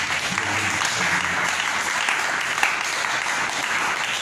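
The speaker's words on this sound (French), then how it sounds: "Applaudissons notre Dieu." Steady applause from a church congregation, dense and continuous clapping that fills the whole stretch without pause.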